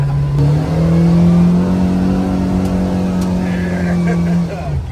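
A Kawasaki Ridge side-by-side's four-cylinder engine revs hard and close, a loud sustained drone holding one pitch before easing off at the end.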